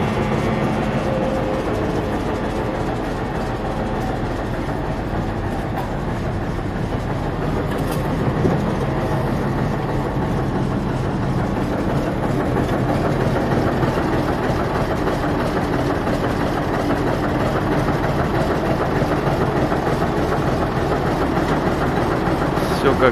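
A Komatsu D355 bulldozer's heavy diesel engine runs steadily with a loud, constant low rumble throughout, with some speech over it.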